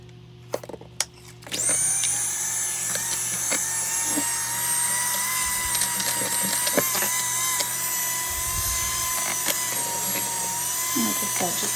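Electric mixer beating pumpkin cheesecake batter, a steady high motor whine that starts after a few clattering knocks and runs continuously, with occasional bumps against the bowl and a voice talking underneath.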